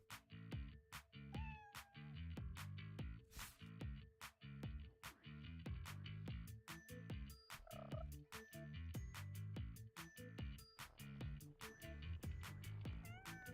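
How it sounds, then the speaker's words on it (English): Cartoon cats meowing in a goofy party game, short repeated meows and croak-like calls over steady bouncy game music, loud and close throughout. "Cats doing cat things."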